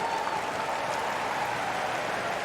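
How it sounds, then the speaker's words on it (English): A tennis crowd at the US Open applauds steadily in a dense, even wash of clapping that fills the whole moment, with no talk heard over it. "the fans are cheering, of course, for Auger-Aliassime"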